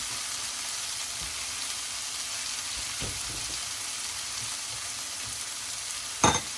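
Potatoes and tomatoes fry steadily in a pan for an omelette, a constant broadband sizzle with a few soft scrapes as they are spread out and a sharper clack of utensil against pan near the end.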